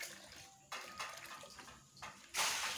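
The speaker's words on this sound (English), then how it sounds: "Taking a sample of water from this pond" Water scooped by hand from a fish pond holding fry, heard as a few short splashing and pouring bursts, the last one louder and closer.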